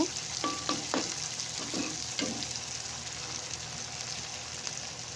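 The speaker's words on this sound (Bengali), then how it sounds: "এই যে এবার পেঁয়াজটা একটু ভালো করে ভেজে নেব" Onion frying in a pan indoors gives a steady, close sizzle, with a few scraping stirs in the first two seconds.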